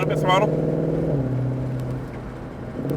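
A 2020 Shelby GT500 accelerating around Nelson Ledges Raceway, its engine a steady, loud droning hum that shifts pitch slightly, with a person talking over it throughout.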